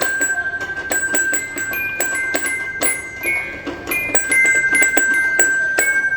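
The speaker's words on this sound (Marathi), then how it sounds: "बघा आमचा किती मस्त पियानो वाजवतो ज्याला ना सूर आहे ना ताल आहे." A child bangs at a piano with no tune or rhythm, a series of bright, ringing, bell-like notes struck at irregular intervals, close and fairly loud, with no talking.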